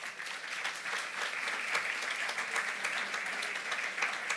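Sustained applause from a conference audience at a science and spirituality talk on Ayurveda Day, a steady dense wash of clapping lasting the whole stretch, fairly loud and close.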